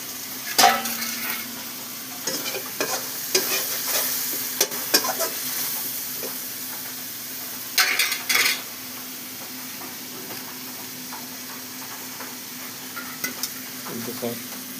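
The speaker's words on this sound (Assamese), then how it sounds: "পিঁয়াজটো ভাজি হৈ গ'ল দিছে আৰু" Onions fry in a pan over a lowered flame, a soft continuous sizzle punctuated by repeated scraping, clattering stirs against the pan, some in brief clustered bursts.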